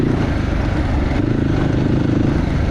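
On a rough uphill track heading toward Kathmandu, a motorcycle engine drones loud and near without a break, its low rumble mixed with jolting rattles from the uneven road.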